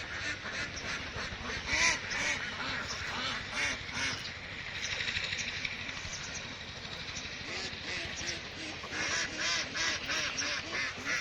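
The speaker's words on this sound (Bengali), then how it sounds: "দেখছেন কত সুন্দর এই যে হাঁসগুলা খাইতেছে, পুকুরে গোসল করতেছে, পার দিয়ে ঘুরতেছে।" Domestic ducks on a pond farm quack continuously in a dense, overlapping chorus, a steady flock close by, with no clear voices over it.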